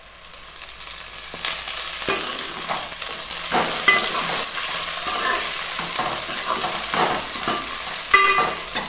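Onions and mint frying in a pan for chicken curry give a loud, steady sizzle, with a spoon stirring and scraping now and then, close up and with no talk.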